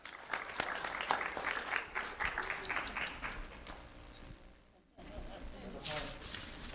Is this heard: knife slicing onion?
no